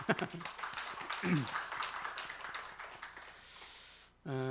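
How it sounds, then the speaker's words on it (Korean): A church congregation at a Sunday service applauds in blessing of visiting family members, a sustained spread of claps under a voice that stops abruptly near the end, followed by a tonal sound. "오늘은 2번, 4번, 5번이 참여해서 박수로 축복합시다"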